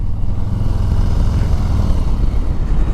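A 2020 Harley-Davidson Low Rider S engine rumbles steadily at close range while riding, a deep continuous throb with no talking over it.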